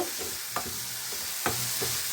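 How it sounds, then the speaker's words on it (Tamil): A spoon scrapes twice through carrot chutney in a pan over a soft, steady sizzle, with a few lighter clinks between strokes. "நல்லா கிண்டி விட்டுக்கோங்க."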